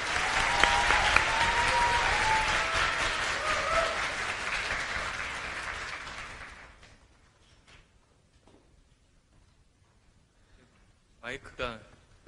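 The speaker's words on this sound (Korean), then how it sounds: "국민의당 안철수 대표님을 큰 박수로 맞이해 주시기 바랍니다." An audience of university students gives loud, dense applause to welcome People's Party leader Ahn Cheol-soo to a lecture. The clapping fades out after about seven seconds into near quiet, followed by a brief burst of handling noise.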